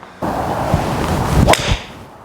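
A single sharp swish and crisp impact of a TaylorMade Stealth 3 wood striking a golf ball, close and loud, followed by a brief fading whoosh.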